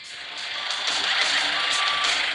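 A semi-truck sounds its reversing alarm, a string of evenly spaced high beeps over a faint engine rumble, growing slightly louder.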